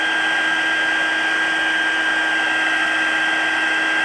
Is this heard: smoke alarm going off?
no